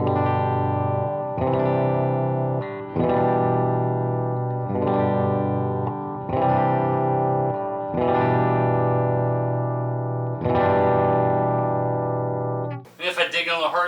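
An electric guitar on the bridge pickup plays clean chords through a Weber Alnico Silver Bell speaker, with each strum ringing and sustaining in a steady sequence of about six chords, then ending in a brief scratchy flurry.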